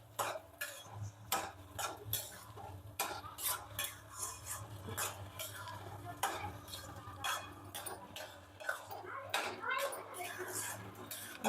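Sugar being stirred into carrot halwa in a pan, with repeated clinks and scrapes of a spoon against the metal pan in an uneven rhythm, under intermittent talking.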